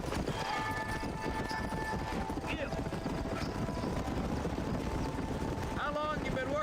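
Horse hooves clip-clopping in Red Dead Redemption, a steady rhythmic trot of hoofbeats running throughout, close and continuous under windy ambient noise, with a short whinny or call near the end.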